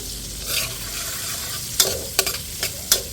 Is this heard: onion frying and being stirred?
yes